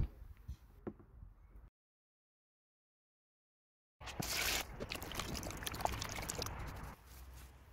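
Water pouring and splashing over white grapes being rinsed, a steady close trickle and slosh after a short pause, with no talk.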